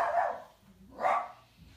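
Dogs barking, two distinct barks about a second apart at moderate distance, with quiet gaps between.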